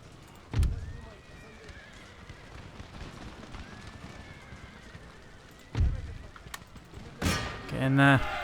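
Light horse cavalry charging in Empire Total War: scattered hoofbeats and horse whinnies over a battle din, with two sharp loud thumps and a burst of louder noise near the end.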